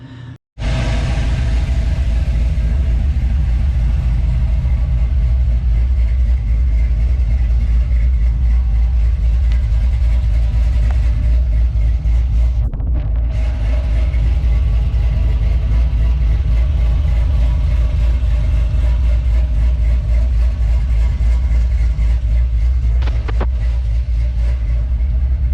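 Truck engine idling steadily after being pulled forward during transmission pan work, a continuous loud low rumble close by that starts abruptly and holds almost unchanged, with no talking.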